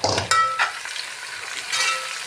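Garlic sizzles in hot ghee with cumin seeds and browned onions, with a sharp burst of frying at the start, then a steady crackling sizzle and stirring scrapes close by.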